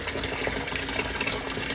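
A capful of bleach poured into a basin of water, a short steady splashing gush of liquid lasting under two seconds, close and fairly loud with no talking.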